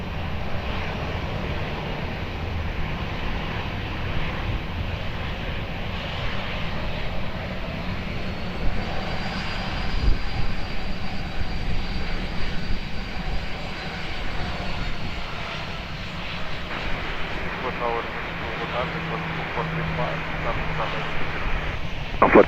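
Aircraft engines roar continuously at Lisbon Airport, a loud sustained drone that swells and shifts as planes move on and around the runway, with radio voices talking over it.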